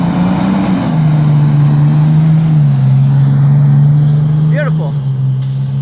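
A two-stroke Detroit Diesel engine in a fire engine runs loud and close, with a steady low droning rumble that dips slightly in pitch midway, and brief higher squeals near the end.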